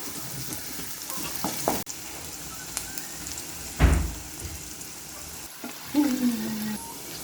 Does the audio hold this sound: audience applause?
no